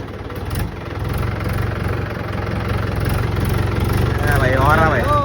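A tractor engine runs close by with a loud, steady, low rumbling throb, and people talk over it toward the end.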